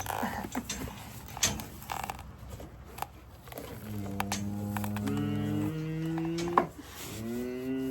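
Rowdy heifers low repeatedly at close range, several long drawn-out moos overlapping, mixed with scuffling, clatter and movement of the cattle in their pen.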